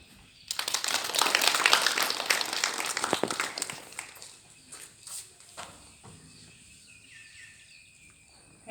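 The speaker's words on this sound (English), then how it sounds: "Let us welcome her with a huge round of applause." Applause from an audience at a school Constitution Day function, broad and sustained clapping for a few seconds that thins out into scattered claps and fades.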